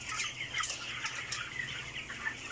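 Broiler chickens on a farm cluck and chatter in a faint, busy flock, with soft overlapping calls over a low background hum.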